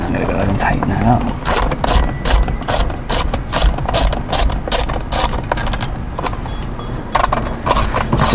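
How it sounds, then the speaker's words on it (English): A ratchet with an 8mm socket tightens a nut in a sliding channel during a UBL U-Lite visor light install, with fast loud close clicking in steady bursts and someone talking over it. "Just gonna screw that into the sliding channel. All right, now I'm gonna go ahead and tighten that up."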